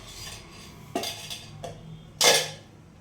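A pan is set down on a stove before oil goes in, giving a few short metallic clinks and knocks, the sharpest and loudest one near the end, with no talking.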